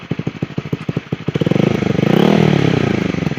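Motorcycle fitted with a Yoshimura R11 two-outlet aftermarket exhaust, starting with a lumpy low idle of distinct pulses, then revving up into a loud, sustained buzzing rasp close to the microphone.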